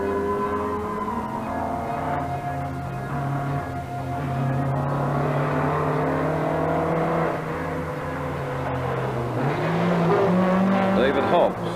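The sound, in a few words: rally car driving past, 1983 Sanyo Rally NZ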